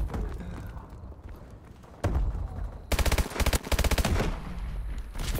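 AMR 9 gunfire in a first-person shooter: after a quieter stretch of game noise, a loud shot lands, then two rapid bursts of many evenly spaced cracks follow, close and punchy.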